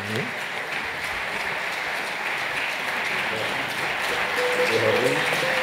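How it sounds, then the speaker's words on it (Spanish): Crowd applause for folk music school students and their players at a presentation, a dense sustained wash of clapping that swells slightly toward the end, with faint voices mixed in. "Un fuerte aplauso para todos ellos, por favor."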